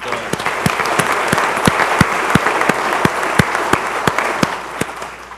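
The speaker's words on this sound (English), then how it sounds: "a round of applause for the mayor and" An audience at a public event gives a round of applause for the mayor, a steady roomful of clapping with sharp individual claps standing out, sustained throughout with a brief voice.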